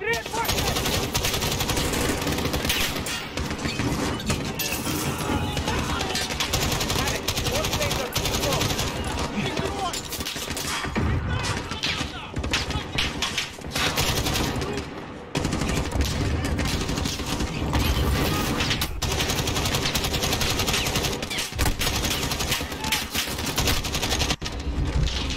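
AK rifle fire in Call of Duty Modern Warfare: dense, continuous combat with overlapping bursts and loud gunfire throughout, layered battle noise, and talking heard underneath.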